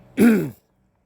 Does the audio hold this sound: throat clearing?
yes